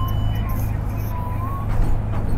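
A Bentley bus rumbles past on a road in Perth, a steady, loud low-frequency engine drone that swells slightly toward the end, with faint whine and traffic noise around it.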